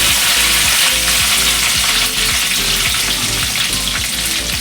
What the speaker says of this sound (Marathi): थोडी कोथंबीर टाकते तेलातच टाकायचं